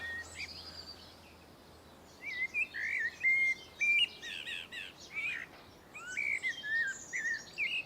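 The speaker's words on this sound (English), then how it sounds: "sit in your garden and listen to the birds" Birds sing in a midsummer garden, bright chirps and warbling phrases coming in clustered bursts over a quiet background, fairly close and clear.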